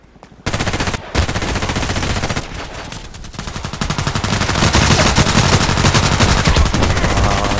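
Sustained automatic fire from a KelTec RFB rifle in the shooter game Contract Wars, a dense, rapid rattle of shots that runs almost continuously, loud and close, growing slightly heavier toward the end.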